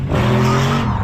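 A race car on the two-lane track at the Avalaks 2024 event gives a loud, steady engine drone with strong low harmonics, held close and unbroken for about a second, with no voices.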